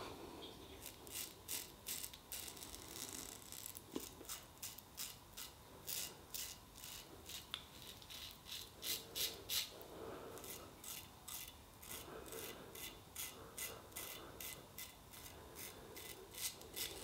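Parker 96R double-edge safety razor scraping across the grain of lathered stubble with ARKO shave soap, a close run of short crisp rasping strokes repeating steadily, alone without talk.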